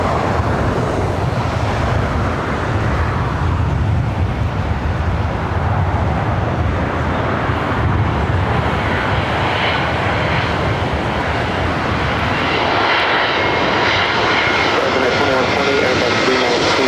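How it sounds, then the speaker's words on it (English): An Airbus A380 arriving from Munich at Los Angeles International, a loud, close rumbling engine roar that swells and shifts in tone as the jet passes, with some voices speaking over it. "up next A380 Super, flight 452,"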